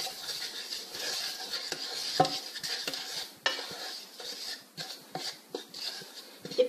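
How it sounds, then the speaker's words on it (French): Sugar, potato starch and cocoa stirred in a small saucepan, a soft continuous scraping and swishing with occasional light clinks of the utensil against the pan, fairly quiet and close. "on va mélanger dans une petite casserole le sucre, la fécule de pomme de terre, enfin la fécule, et le cacao"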